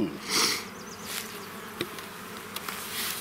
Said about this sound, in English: I see a lot of bees